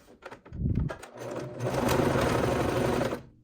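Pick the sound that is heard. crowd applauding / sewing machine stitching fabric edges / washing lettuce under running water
sewing machine stitching fabric edges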